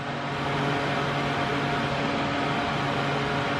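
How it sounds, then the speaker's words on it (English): Battery-powered DeWalt 20V jobsite fan running at its maximum speed, a steady, loud broadband whoosh of moving air with a faint motor hum, constant and unbroken throughout with no one talking. "And it moves a decent amount of air. And that's how noisy it is."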